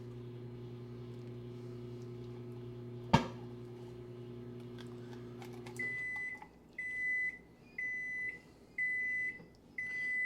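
A microwave oven melting butter hums steadily, then after a brief clatter sounds a series of four or five loud, evenly spaced electronic beeps, close and alone.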